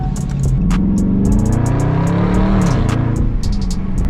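A loud car engine revs continuously, pitch climbing and falling as it accelerates, sustained at close range with no speech.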